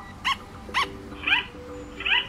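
Recorded sugar glider barking: four short, sharp, high yips spaced about half a second apart, close and clear over a faint background hiss, with no talk.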